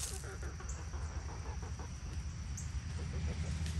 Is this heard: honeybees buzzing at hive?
no